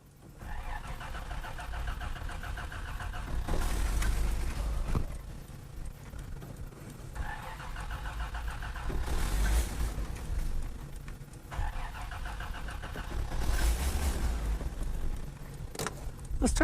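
An old Toyota Land Cruiser that has sat unused for years cranks repeatedly with the choke on, a loud, steady, close whirring of the starter with rising surges every few seconds, but the engine never catches.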